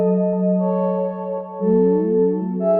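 A synth lead melody built from an Omnisphere Moog modular bank with a granular effect, playing sustained bright tones that switch into repeated upward pitch sweeps, loud and alone with no voices.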